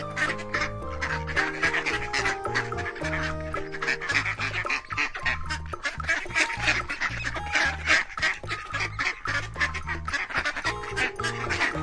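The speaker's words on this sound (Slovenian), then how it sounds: "Raca." A duck quacks repeatedly in a steady run of nasal calls over a continuous bed of background music, as part of an animal-sound guessing game; no one speaks.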